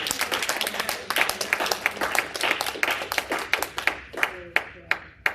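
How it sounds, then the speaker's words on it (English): A church congregation claps and applauds, dense at first and then thinning into scattered, sharp individual claps toward the end, with a voice faintly underneath. "you can clap for Jesus"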